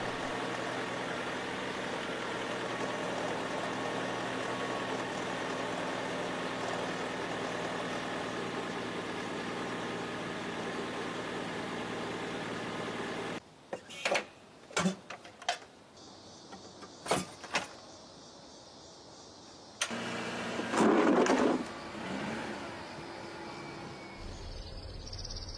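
A 2002 Saturn engine with a new Walker downpipe idles steadily at a low, constant hum for about half the time, followed by quieter stretches broken by clanks and bumps.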